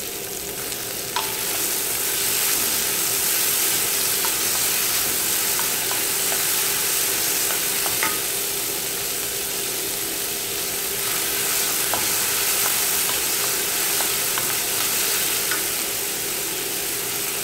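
Garlic and onion fry in melted butter in a pan while making vegetable cutlets, a steady close sizzle running throughout with occasional light clicks of stirring.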